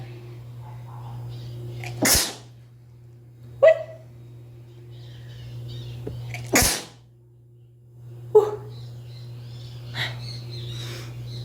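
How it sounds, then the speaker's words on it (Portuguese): Two sharp, loud sneezes burst out a few seconds apart against a steady low hum, with softer clicks and small noises between them and no talking. "Ai, voltando, espirrei."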